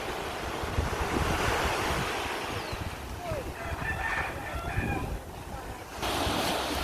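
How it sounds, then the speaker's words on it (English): Heavy wind roars across a Barbados beach during Hurricane Bret, with broadband surf crashing continuously beneath it and microphone buffeting throughout; a faint bird call surfaces briefly midway. "The wind is quite heavy, as you guys can see."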